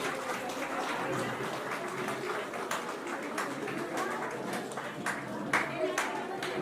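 An audience at a senior citizens' honour ceremony claps in a scattered, uneven way, individual hand claps standing out over a murmur of voices, moderately near.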